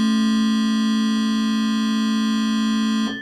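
A sustained, buzzy Yamaha DX7 synthesizer tone packed with overtones holds steady at one pitch, then cuts off abruptly.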